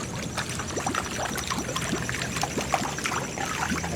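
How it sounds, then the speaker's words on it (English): Pool water gurgling and trickling down a drain while a pool is being closed, with a steady watery wash and small bubbly pops spread through the whole stretch, fairly close and without talk. "You may hear the water gurgling down, and indeed, there it goes."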